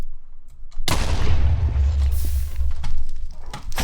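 A Minecraft ghast's fireball lands with a loud, booming blast that rolls on as a rumbling roar, sharp and close, with no talking.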